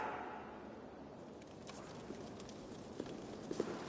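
A horse's hooves clip-clop on the ground in Assassin's Creed Valhalla, a few soft, scattered hoofbeats that grow a little more distinct toward the end over a quiet outdoor ambience.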